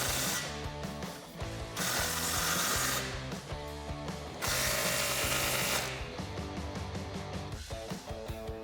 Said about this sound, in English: Then we can take a 15mm deep socket and tighten that up.